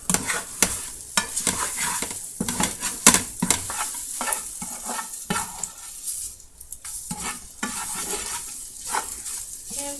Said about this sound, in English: Give the egg a toss.